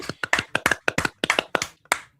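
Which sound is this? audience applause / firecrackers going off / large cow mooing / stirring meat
audience applause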